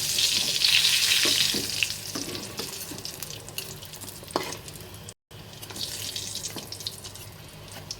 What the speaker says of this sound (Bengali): এখন এগুলো এভাবে সেম এরকম করে ভেজে নেব।